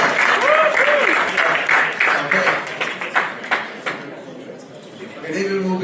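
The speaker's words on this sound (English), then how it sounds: "Round of applause." An evening community event audience gives a dense round of close applause that slowly fades, with some voices underneath.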